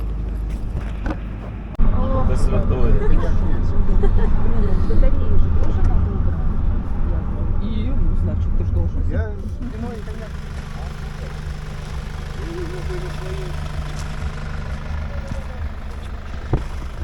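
An off-road 4x4 lifted jeep engine at a mountain resort in Bukovel revs up and then settles into a steady loud rumble, close and continuous, with wind buffeting and people talking over it.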